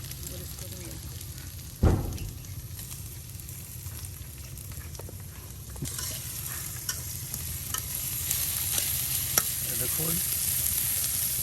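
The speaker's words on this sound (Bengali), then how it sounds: "রসুন পেঁয়াজ এই তেলে ভাজা" Garlic and onion frying in oil in a rural kitchen, a steady close sizzle with stirring scrapes and one sharp knock, while a voice speaks briefly over it.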